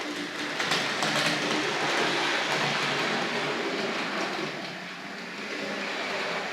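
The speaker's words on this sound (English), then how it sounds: "let's back up the Scotsman back through the point work there" A Tri-ang Hornby model train, the Scotsman locomotive, reverses back through the point work, giving a steady close rumble and rattle of small wheels on track with no talk.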